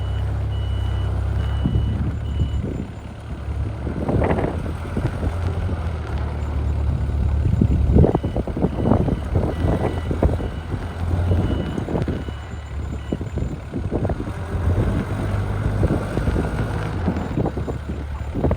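WOLF MINI 780H Chinese mini wheel loader driving around while lifting a load, its engine droning steadily under a long run of repeated reversing beeps, with outdoor wind noise.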